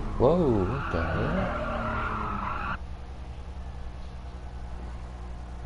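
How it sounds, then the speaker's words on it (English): A race car in GT Sport skids and shimmies, tires squealing in wavering, warbling pitches over engine drone for a few seconds before dropping to a steady rumbling road noise. "My car just started shimmying on its own right there."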